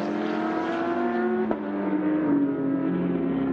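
A Ferrari and a Porsche GT race car drone steadily at the Sepang 12 Hours endurance race. Their engine notes hold and slide downward, with a brief sharp break partway through.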